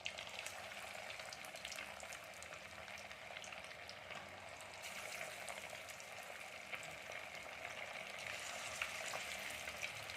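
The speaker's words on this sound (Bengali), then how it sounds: "আমরা মাছগুলো একটা একটা করে ছেড়ে দিয়েছি এবার আমরা এগুলোকে ভেজে নেব" Small fish pakoras fry in hot oil with a steady, dense sizzle that holds at an even level for the whole stretch, close up and without any voices.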